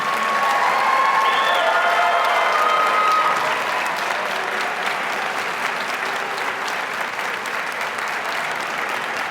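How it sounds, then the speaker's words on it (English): An audience applauds steadily for several seconds after a student performance, a dense wash of clapping that peaks early and then tapers slightly, with faint cheers mixed in. "How about one more final round of applause for all of our student performers this evening?"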